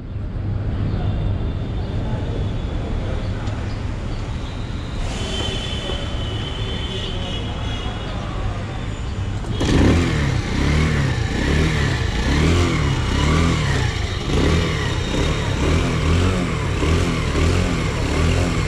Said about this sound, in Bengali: আর বাইকের কোল্ড স্টার্ট দিতে হবে, যেহেতু দিনের প্রথম স্টার্ট, তো এটা ডাবল স্ট্যান্ড করে কিক স্টার্টই দেওয়া হয়।